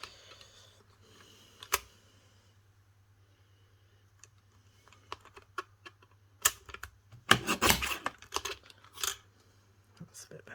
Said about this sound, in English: I'm just going to trim that side up a little bit.